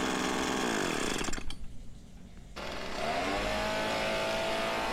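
A PB250 leaf blower runs loud and close with a steady high-pitched engine whine, briefly drops back to a lower idle, then revs up again to full power.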